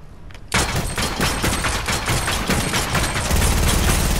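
Rapid combat pistol fire in a video game, on the Dirty Docks map: a dense, loud string of close shots that starts suddenly and keeps going without letup, with no talking.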